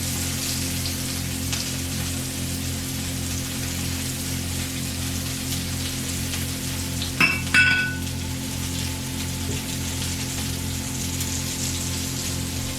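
Garlic fries in a paella pan for a Valencian paella, giving a steady, close sizzle with a constant crackle and a low background hum, broken by a short clatter partway through.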